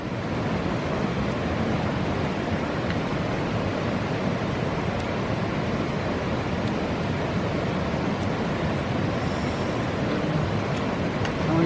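A creek at a campsite watering hole rushes steadily in broadband, unbroken flow, close and constant like churning water, with light wind noise mixed in and no voices.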